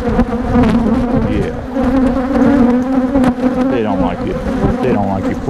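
Honey bees swarm in a dense, steady buzz around an opened nuc hive on a cool day, agitated and loud up close, with several individual wingbeats weaving in and out of the drone.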